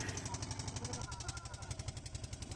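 A rapid, pulsing engine chugs steadily nearby with a regular throbbing rhythm, a small motorboat motor running out on the sea.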